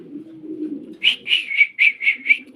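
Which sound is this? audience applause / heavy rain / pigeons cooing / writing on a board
pigeons cooing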